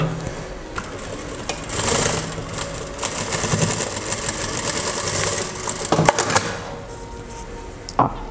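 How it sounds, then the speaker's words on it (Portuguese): A sewing machine stitches patchwork pieces together in a steady, close, rapid whirring run lasting several seconds, with lighter mechanical clicks before and after, and no speech over it. "para a máquina e vou costurar aqui, nessa posição"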